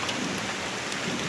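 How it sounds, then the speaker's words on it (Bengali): Steady, dense rain pours down during a storm, a continuous close hiss of drops with no gaps and no voices. "তো দেখো এই যে বৃষ্টি পড়তেছে"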